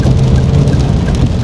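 Rain falls steadily during a drive through Davao City, a dense, loud wash of drops on the car with a low engine rumble underneath.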